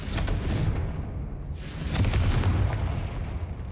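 In Hogwarts Legacy, the Confringo fire spell lands with dense, rumbling explosive bursts, two heavy booming impacts rolling into a sustained low roar, loud and close.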